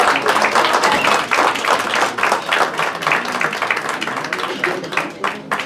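Lively, close applause from a crowd at a merit award ceremony honoring an artist, continuous with distinct individual claps and no speech, holding steady throughout.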